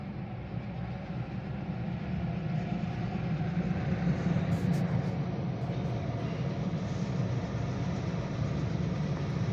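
Norfolk Southern container train coming downhill: a continuous loud rolling rumble of engines and rail cars, steady throughout with a slight swell toward the middle.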